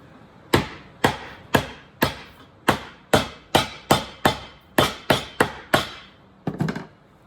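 A hammer drives heel bases onto a boot during a boot recraft, landing about a dozen loud, crisp blows at a steady, quick rhythm, with a short pause before a final softer pair of taps.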